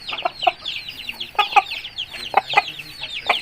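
A long-tailed Thai cross Aseel rooster clucks in a rapid string of short, throaty notes, some paired and some single, close and fairly loud with only faint background noise.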